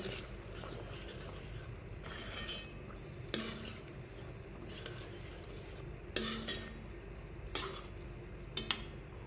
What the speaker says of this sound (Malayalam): ഇനി ഈ പാലിൽ കിടന്നൊന്ന് നല്ലപോലെ തിളക്കട്ടെ.